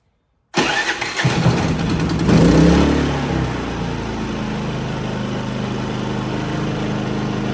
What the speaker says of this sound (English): I fired up a cold start pretty well with that new spark plug